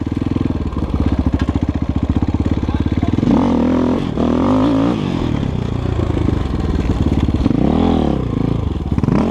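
A KOVI Advance 250 enduro motorcycle rides off-road close by, its single-cylinder engine chugging loudly and revving in repeated surges with clattering over rough ground.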